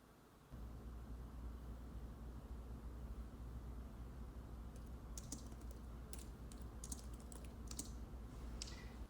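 Keys on a keyboard are tapped quietly in close-up, a scattered run of soft clicks over a steady low hum of room noise.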